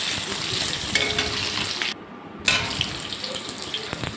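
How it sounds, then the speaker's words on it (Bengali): Thin-cut potatoes fry in oil with a pinch of salt, giving a steady close hiss and crackle that drops out briefly midway and then resumes. "আলুটা আগে ভেজে নিচ্ছি"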